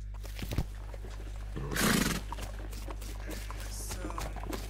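Horse neighing in the video game West of Loathing, one short whinny over a steady low game hum, a soft voice muttering nearby.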